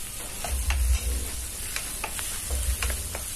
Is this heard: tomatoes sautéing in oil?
yes